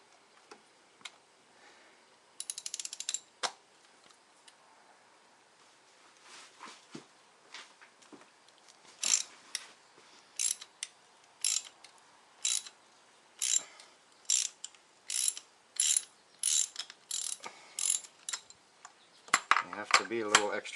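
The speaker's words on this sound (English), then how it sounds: "We're using a 5/8 socket for the spark plugs." A ratchet with a 5/8 socket removes spark plugs from a Malibu 2.4L Ecotec engine, producing a long run of crisp, evenly spaced clicking bursts after a few scattered metallic taps, close and fairly loud with no talk.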